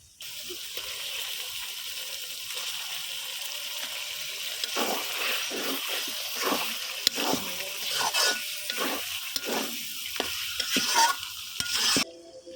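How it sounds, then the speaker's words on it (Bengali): Beef chunks stirred into sizzling spice masala in a pot for bhuna khichuri, with a steady frying hiss and repeated scraping, clattering stirs growing busier toward the end. "বন্ধুরা আমি এই যে মাংসটা মশলার সাথে মিশিয়ে দিচ্ছি"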